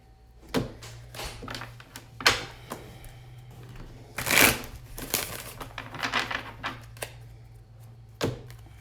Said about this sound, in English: I have to shuffle the cards good so I can get you different messages each time.